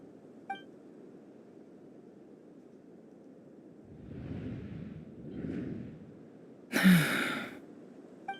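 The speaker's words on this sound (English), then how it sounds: "I heard Yehuda gasp" A character gasps in the Genshin Impact Nod-Krai Archon Quest, a brief sharp intake of breath standing out over quiet game ambience after softer breathy sighs.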